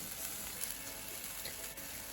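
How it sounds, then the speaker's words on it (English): Jerk buffalo wings sizzle steadily on a covered grill, a soft, even crackling hiss that holds at a low level throughout, with no talk. "Cover my grill and I'll leave them there to continue grilling."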